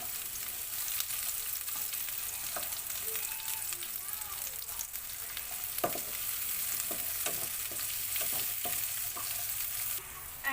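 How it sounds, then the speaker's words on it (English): Onion sautés in a pan with a soft, continuous sizzle, and light clicks of a utensil stirring come through now and then; quiet and close, with no speech. "And now we can throw our onion. And then just saute until translucent."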